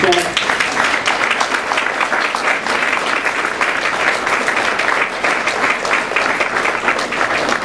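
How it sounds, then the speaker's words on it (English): An audience at a community dedication of a public art mural gives a steady, loud round of applause, dense clapping sustained throughout with a little crowd noise. "I just want everyone to give him a round of applause."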